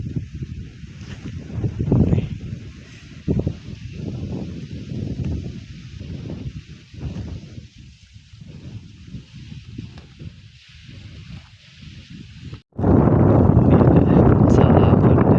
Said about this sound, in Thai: นี่แหละลมพัดเย็นพี่น้อยวันนี้บ่ร้อนบ่หนาว